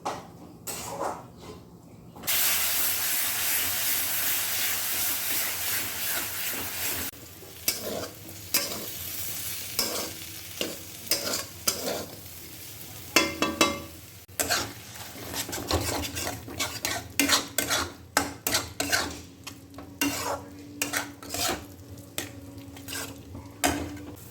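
Spice paste for a jackfruit curry fries and is stirred at length in a pan, giving a close sizzle with frequent scraping and clattering of a spoon against metal, bursts of stirring coming in uneven waves.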